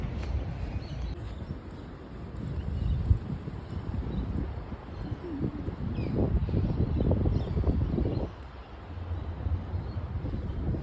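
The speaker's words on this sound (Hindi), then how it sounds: "यहाँ पे ना हवा भी चल रही है." Wind blows outdoors in Melbourne, a steady low rumbling gust with microphone buffeting that swells and eases, no voices present.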